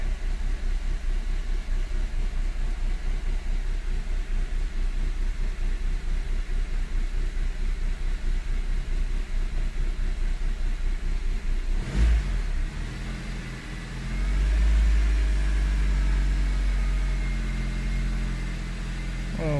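A 2006 Honda Civic engine idles steadily up close with a low, continuous drone, a brief sharp disturbance near the middle, then the engine note swells and hangs higher before easing slightly as the RPM rises and falls.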